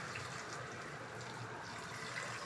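Water poured into a frying pan while cooking a curry after tomatoes have been fried, a steady, faint rushing and hissing stream lasting the whole moment with no voices.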